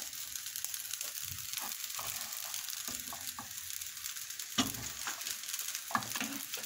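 Vegetable fried rice with peas crackles in a frying pan under a constant sizzle, with repeated scraping stirs of a utensil against the pan.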